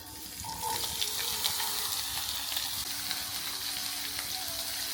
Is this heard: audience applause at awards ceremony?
no